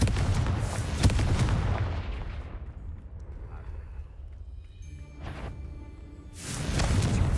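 A Confringo blasting spell explodes in the Hogwarts Legacy video game with a loud, booming burst that rumbles and fades over several seconds, followed by a second whooshing surge.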